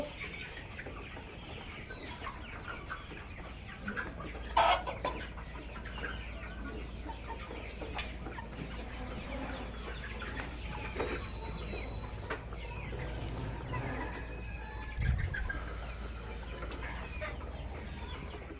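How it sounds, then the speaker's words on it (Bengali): Super hybrid naked neck parent stock hens in a poultry shed cluck steadily, with scattered calls from a crowd of birds and a few louder close squawks over a constant low hum. "এখন আমরা আপনাদের দেখাবো আমাদের গলাশিলার প্যারেন্টস স্টকের মুরগিগুলো দেখাবো"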